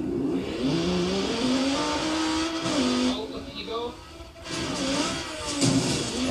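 A car engine revs and drones at high speed toward a ramp in the Forza Horizon racing game, the pitch rising and falling with gear changes, under steady talking.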